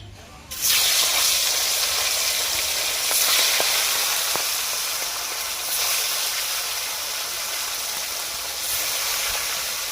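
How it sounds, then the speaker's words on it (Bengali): Snakehead fish frying in hot oil in a kadai makes a loud, steady, close sizzle that starts suddenly and holds for the whole stretch, with faint stirring clicks and no talking. "মাছটা আমার ভাজা হয়ে গেছে"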